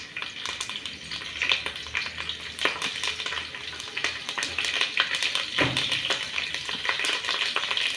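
Curry leaves sizzle and crackle in hot oil at the start of a Telangana-style fish curry, a steady close frying hiss with sharp pops and occasional stirring scrapes throughout, no talking.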